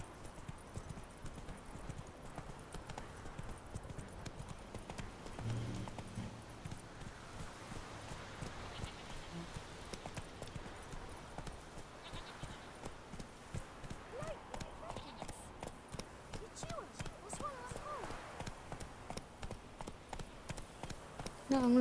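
Roach, a horse in The Witcher 3, gallops with rapid, steady clip-clopping hooves throughout, fairly quiet and close, while someone talks over it.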